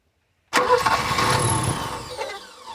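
Old barn-find BMW car engine starting for the first time in 29 years: after silence it suddenly cranks and catches, then settles into a rough, steady running roar that fades slightly, close by.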